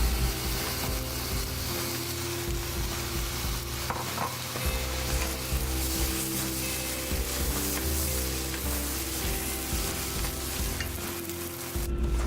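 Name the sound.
stir-frying egg fried rice with zucchini and sausage in a wok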